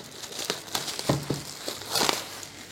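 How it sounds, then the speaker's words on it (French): Cardboard packaging of a Pokémon card Elite Trainer Box being unwrapped and opened, with close crinkling, rustling and a few sharp snaps of plastic and paper in an uneven rhythm, no talking. "On ouvre, on déballe."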